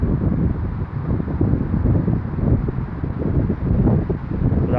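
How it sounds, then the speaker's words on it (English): Wind gusting against the microphone inside and around an old church in Rochdale, UK, a steady broadband rumble and buffeting that fills the whole stretch without letup. "But that wind's horrible."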